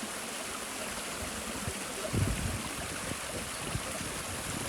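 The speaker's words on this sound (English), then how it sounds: "Just the sound of the water cascading over the rocks" Water in an Elan Valley stream cascades over rocks in a constant broad rush, with a brief low thump partway through.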